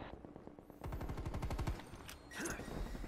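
Hand cannon gunfire in a video game: a rapid string of sharp, loud shots runs for about a second, then a few more scattered blasts follow over the game's background noise.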